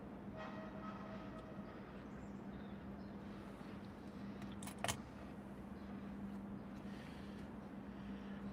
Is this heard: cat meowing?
no